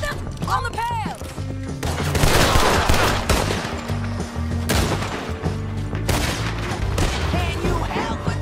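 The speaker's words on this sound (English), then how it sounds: "Can you help with the shooting?" Dense gunfire rings out in a Red Dead Redemption shootout, with rapid overlapping shots, booms and cracks that keep up almost without pause at high loudness, while players' voices come through faintly beneath the barrage.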